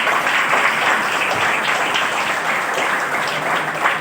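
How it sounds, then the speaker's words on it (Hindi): Audience applause at a Hindi-language talk or lecture, a steady dense wash of many hands clapping at once, loud and sustained throughout with no clear pauses. "ताली मारो।"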